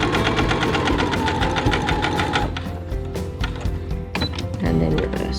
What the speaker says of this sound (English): Get our needle in and reverse. Just sew to the end.